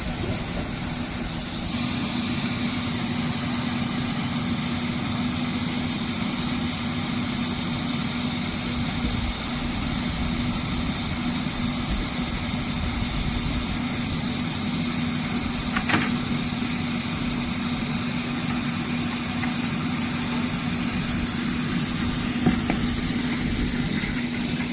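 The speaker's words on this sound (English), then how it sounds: "That's the equipment that they use to spray the liner." Spraying equipment runs steadily while applying an OBIC liner to seal a leaking manhole, a loud continuous roaring hiss with a faint constant hum underneath and no pauses.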